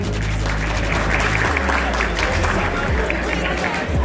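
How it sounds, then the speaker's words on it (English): Guests at a cricket fundraiser dinner in Sydney break into loud applause, a thick close wash of clapping mixed with crowd murmur and voices. "give a round of applause"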